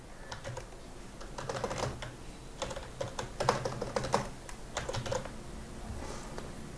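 Fingers tap on a computer keyboard in short irregular bursts, the soft close clacks clustering into quick runs separated by brief pauses, over a faint steady background hum.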